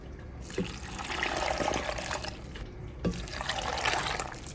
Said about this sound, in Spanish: Le voy a agregar caldo de pollo, le voy a agregar 2 tazas.